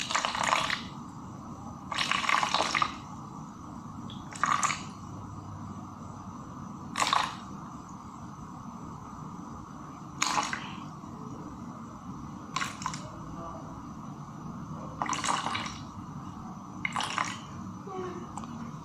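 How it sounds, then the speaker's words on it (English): Water poured onto a measuring scale for weighing soap-making ingredients, heard as several short bursts of splashing pours spaced through the clip over a steady low background hum, with no talking. "So now I'm going to measure my water, which I quickly pour it until I get the total number"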